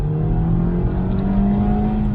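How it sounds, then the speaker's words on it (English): An imported stock Mk5 Golf GTI pulls away on a test drive, its engine droning steadily from inside the cabin with a rising tone, loud and continuous, with no talking. "we're in the imported Mk5 Golf GTI and we're just going on a quick test drive"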